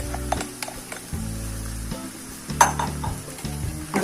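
Boiled rice hits a hot pan for restaurant-style chicken fried rice on high flame, a soft sizzle running under repeated scraping stirs and metallic clinks of a spatula against the pan.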